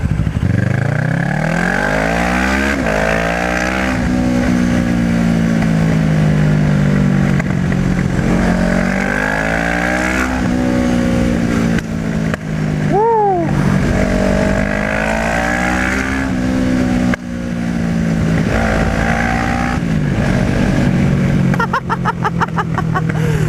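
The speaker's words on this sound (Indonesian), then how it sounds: "Gila, seneng banget gua sama popping dari exhaustnya ini Two Brothers." Kawasaki ER6N Scrambler motorcycle with a Two Brothers exhaust revving loud and close, its engine note rising and falling through repeated throttle blips, with a quick sharp rev spike midway and crackling exhaust pops near the end.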